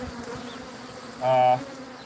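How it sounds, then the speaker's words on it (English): A short burst of aggressive honeybees buzzing near a field. The tone is steady and droning, rising for under half a second over a quieter hum. "So the remnant bees coming back to the field never used to be aggressive."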